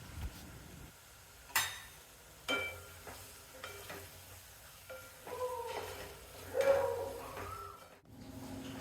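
Chili powder and yogurt are sautéed in a pan for paneer biryani, with a soft continuous sizzle and several distinct spoon strokes and scrapes against the pan, close and moderately quiet.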